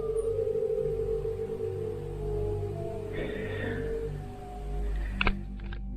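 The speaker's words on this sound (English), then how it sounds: "Капец, реально волки, друзья." Wolves howl in a snowy forest at night, long wavering tones drawn out over several seconds, with a brief sharp rustle near the end.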